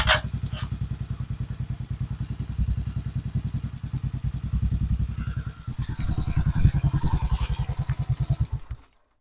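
A motorcycle starter motor cranks continuously, a rapid even chugging whir that keeps turning for several seconds without the engine catching, then cuts off abruptly.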